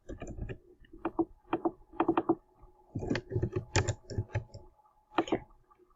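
Keys clatter on a computer keyboard in uneven bursts of quick clicks and taps, separated by short pauses, close and fairly crisp, with no talking.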